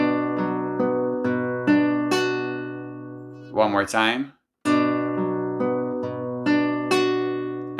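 Solo fingerstyle guitar plays a measure of a song, ringing plucked notes in a steady arpeggio, broken midway by a short spoken phrase before the picking resumes.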